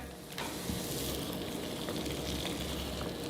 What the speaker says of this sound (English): Starting to sizzle.